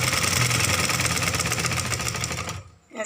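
A sewing machine runs steadily and loudly as it stitches the neckline of a kameez, its rapid needle rhythm holding for about two and a half seconds before cutting off abruptly.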